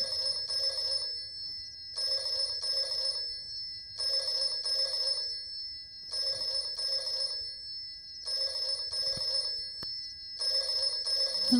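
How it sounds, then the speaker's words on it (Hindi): Telephone bell rings in a Hindi comedy film scene from Dhamaal (2007), loud, steady bursts of double rings repeating about every two seconds, alone with no talk. "तू टेलीफोन की घंटी बजा रहा है?"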